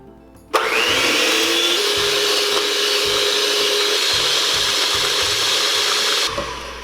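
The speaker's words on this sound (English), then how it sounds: "whip these up until they're really frothy and foamy. And you can do this in a stand mixer or a hand blender" A stand mixer or hand blender whips brownie batter ingredients until frothy, a steady loud motor whir that starts abruptly, runs continuously with a faint rising whine, then cuts off.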